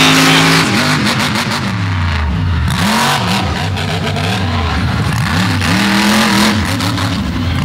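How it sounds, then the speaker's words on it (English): A monster truck engine roars loudly at a Dragway 42 monster truck competition as it crushes cars. The revs surge and fall continuously throughout, close and powerful. "Crushing the cars."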